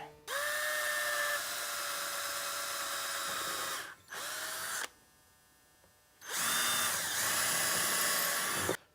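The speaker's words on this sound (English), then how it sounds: "And now I can drill through these, my starter holes" Power drill boring starter holes for a ram lock installation, running in long steady bursts with a high whine, pausing briefly between holes and stopping for a quiet gap before revving up again.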